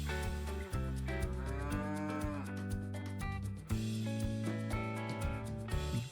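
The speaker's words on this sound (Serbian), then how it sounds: "Bravo, to je krava." A cow moos in a farm setting, its drawn-out call blending into steady, loud background music that runs through the whole clip.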